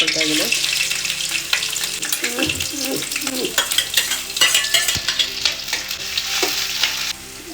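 Chopped ginger, garlic and green chili fry in a hot pan with a continuous sizzle, broken by scraping stirs and a few sharp knocks of the spoon, while a voice talks faintly now and then.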